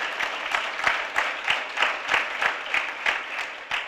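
Audience applause at an NAACP jobs campaign gathering, a close, moderately loud crowd clapping in a loose, almost rhythmic pulse of hands striking together.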